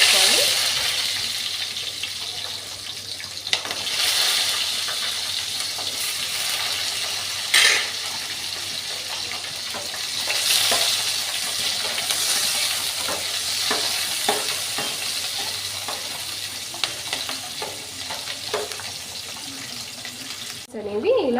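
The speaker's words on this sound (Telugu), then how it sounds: "ఆయిల్ వేడెక్కిన తర్వాత కట్ చేసి పెట్టుకున్న ఆనియన్స్ వేసుకోవాలి." Cut onions fry in three tablespoons of hot oil in a kadai while boti fry is being made. A continuous close sizzle runs throughout, broken by frequent scraping and clinking stirs.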